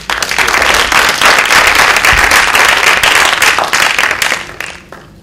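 An audience at Leeds Metropolitan University applauds to welcome Rachel Reeves to give a lecture, a dense, steady burst of clapping from a large crowd that holds for about four seconds and then thins out toward the end.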